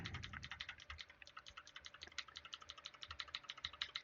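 Mechanical keyboard with Cherry MX Blue switches typed rapidly and steadily, crisp clicky keystrokes in a continuous rhythm, faint and slightly distant as picked up by a headset microphone over low background hum.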